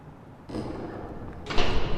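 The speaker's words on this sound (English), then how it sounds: "That sounds like the church gates could be Katia." Church gates closing in the Yesterday Origins video game: a heavy door-like slide and thump, followed by a louder second impact, close and alone without talk.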